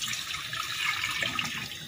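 Water poured into a wok while making Indian mulberry syrup, a steady continuous splashing rush, fairly close and even in level for the whole stretch, with no talking over it.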